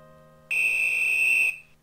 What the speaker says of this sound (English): The miniature copper automaton sees you and sets off an alarm